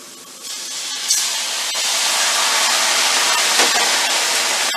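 Water hits a smoking-hot pan of carrots being browned for braised short ribs, giving a loud, steady, broadband sizzling hiss that starts abruptly and keeps going without talk.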